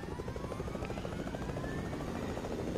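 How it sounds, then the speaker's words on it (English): Steady, loud rotor thumping of a helicopter in a video game, continuous and close for the whole stretch with no talking. "It's another helicopter, but what is going on there?"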